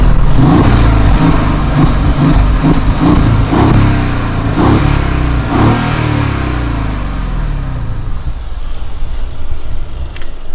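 A naturally aspirated V8 engine in a Mercedes E500 Cabriolet roars loudly through repeated hard revs, each surge rising then falling, before settling into a steadier drone with no talking.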